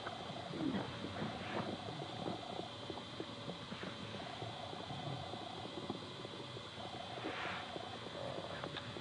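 Birds sing and doves coo in a wooded setting among the redwoods of Bohemian Grove, over a steady noisy background with faint repeated calls and soft cooing.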